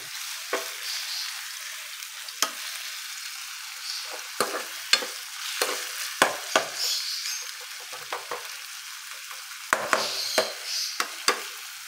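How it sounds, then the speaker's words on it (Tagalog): Leftover ham frying with egg, a low sizzle broken by frequent sharp scrapes and taps of a utensil against the pan at irregular intervals, close by and with no talking. "Nagluluto tayo ng ating tirang ham."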